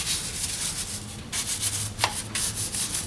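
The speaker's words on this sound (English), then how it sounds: "Got my brush, and I'll get in there and I'll scrub the oil grime." A brush scrubs oil grime off an engine valve cover, giving a steady, close, bristly rubbing that continues throughout with a few brief harder strokes, no talking.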